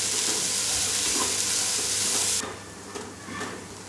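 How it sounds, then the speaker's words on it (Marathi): Chopped onions sauté in hot oil for a country-style jawla dish, a loud continuous sizzle and hiss that drops off sharply partway, leaving quieter stirring scrapes. "कांद्याचा चांगला कलर मस्तपैकी चेंज होईपर्यंत तो असा परतत राहायचा तेलात।"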